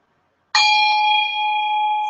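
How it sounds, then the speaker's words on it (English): A handheld bell with a dorje handle is struck once at about half a second, giving a sharp onset and then a bright, steady ring that holds clearly through the rest of the clip, with no other sound. "ring the bell once in each corner, and then in the center of the room"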